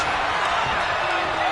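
A dense, steady crowd roar fills a wrestling arena in the WWE 2K25 video game, loud and unbroken throughout the short stretch with no clear individual voices.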